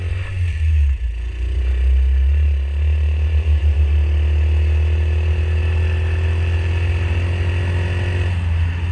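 A 1977 Honda Z50 mini trail motorcycle rides at steady speed, its small engine buzzing loudly and continuously up close, with rattles and a brief rise in revs and no talk.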